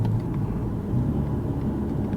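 Mk5 Toyota Supra, fitted with a carbon fiber steering wheel, drives along an unfamiliar residential road, its engine and tyre noise a steady low rumble heard from inside the cabin with no talk.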